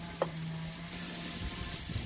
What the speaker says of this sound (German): Jetzt werden wir ein wenig anschwitzen,